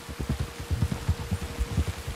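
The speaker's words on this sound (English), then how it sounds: "Damn rain." Steady rain in Red Dead Redemption 2 gives a soft, even patter with low drumming thuds in an irregular rhythm, faint and alone with no talk.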